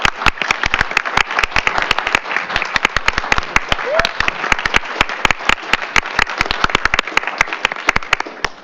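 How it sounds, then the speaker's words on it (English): A board meeting audience applauds in a steady patter of many hands clapping, loud and sustained for several seconds, with a brief voice partway through. "Let's give them a round of applause."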